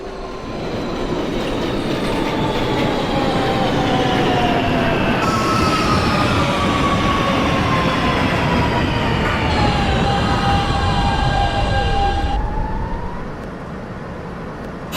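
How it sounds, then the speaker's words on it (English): A Coney Island bound Q local subway train runs loudly and continuously, with rumbling wheels, rhythmic clatter and long squealing tones from the rails, close by throughout. "This is a Coney Island bound Q local train."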